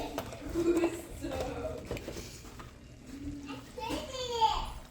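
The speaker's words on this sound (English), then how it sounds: "Sorry, my children are playing together, but they're loud." Children playing loudly in the background of a home kitchen, with shrieks and lively kid chatter coming and going while an adult talks.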